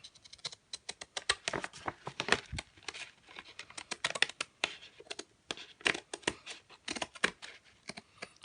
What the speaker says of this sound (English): Took my scissors